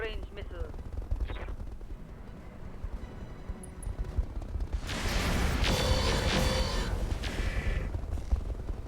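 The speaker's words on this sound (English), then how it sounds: "Firing light missile rack." Light missile rack firing in the BattleTech RogueTech video game: after a quieter stretch, a loud burst of rapid launches and impacts crackles and booms for several seconds, dense and close.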